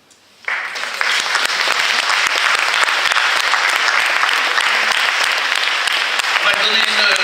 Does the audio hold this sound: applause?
yes